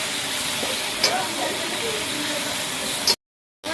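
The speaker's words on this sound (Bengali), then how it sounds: "টমেটোগুলোকে ভালো করে ভেজে নিতে হবে" Tomatoes fry in a pan as curry for aloo dum is cooked, a steady close hiss and sizzle with a few soft stirring scrapes, cutting off abruptly near the end.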